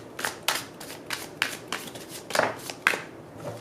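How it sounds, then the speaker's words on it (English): Tarot cards being shuffled by hand during a love tarot reading, heard as a series of soft, crisp slapping and sliding strokes spaced roughly every half second, fairly close and quiet, with no talking. "See how that just dropped right out as I was shuffling."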